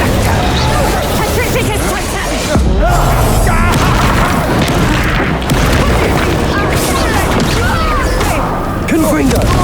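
Incendio fire spell blasts in Hogwarts Legacy, repeated booming bursts layered with combat effects and a spoken voice, loud and dense across the whole stretch.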